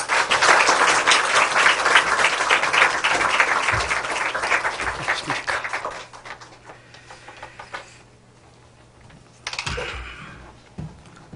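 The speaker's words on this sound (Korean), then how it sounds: "오늘 박수 좀 맞이해 주셨으면 좋겠습니다" Church congregation applauding to welcome a pastor to the stage: dense, steady clapping fills the first six seconds, then thins out and fades, leaving a quiet room with a few scattered claps near the end.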